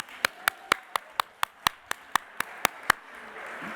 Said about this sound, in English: I want to take a moment and ask you all to give yourselves a round of applause.